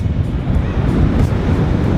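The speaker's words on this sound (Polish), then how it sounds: "Polskie morze, polskie fale, polskie słońce." Sea waves roll in on the Polish coast, a steady broad surf wash mixed with wind buffeting the microphone, continuous and fairly loud with no voices.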